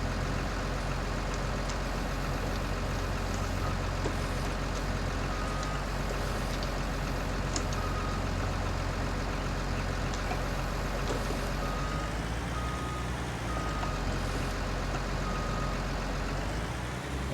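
Big Bud tractor engine in the Farming Simulator 19 video game, a steady, loud, low diesel drone running continuously with a slight shift in tone partway through.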